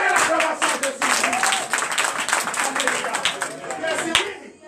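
A church congregation at a night deliverance service claps and cheers in acclaim, a dense, steady wash of hand claps with voices calling out throughout, fairly loud and close.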